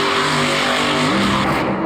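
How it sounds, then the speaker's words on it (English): Stonecrusher, a monster truck at Monster Jam in Orlando, roars loudly as its engine labors, stalls and gives out, the steady engine drone dropping in pitch partway through before fading near the end. "the engine really stalls and gives out there"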